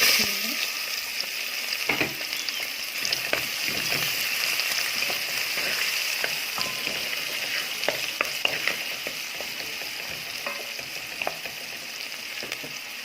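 Onion fries in a pan for a small tagine, a steady bright sizzle with scattered crackles and a few scraping stirs, close and moderately loud, with no voices.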